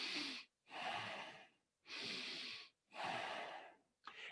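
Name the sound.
shallow chest breathing demonstration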